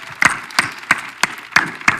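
Audience clapping at a youth convention panel session, five distinct loud claps in a slow, even rhythm, close and clear with no talking.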